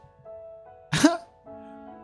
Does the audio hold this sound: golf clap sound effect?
no